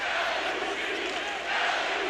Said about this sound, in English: The crowd chanting LUC, Loyola University, Chicago.